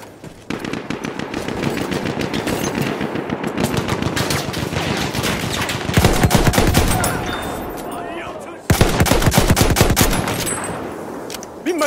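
Battlefield 1 machine gun fire, a loud, near, continuous burst of rapid rattling shots that pauses briefly twice before resuming, with no talk over it.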